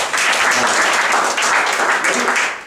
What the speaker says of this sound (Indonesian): Ayo beri tepuk tangan buat Tuhan nih.